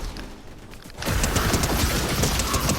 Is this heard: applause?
no